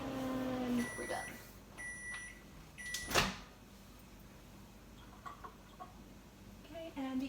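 Microwave oven in a kitchen sounding three clear, close electronic beeps in a row, followed by a sharp click of the door opening, then quiet handling noises and a faint voice.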